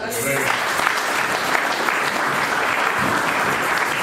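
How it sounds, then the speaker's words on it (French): A church congregation breaks into applause after a short spoken phrase, sustained clapping from many people filling the hall at steady strength for several seconds. "Acclamons aussi"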